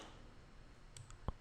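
A single sharp computer mouse click lands near the end of a short quiet stretch, close and crisp against faint background hum, with no talking.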